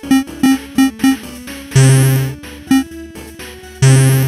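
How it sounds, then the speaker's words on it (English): Menu sounds from the Golden Hornet video game: loud, punchy electronic blips in a quick rhythmic run, then two longer, brighter chimes with rising sweeps, all up close with no voices. "The menu sounds are really loud."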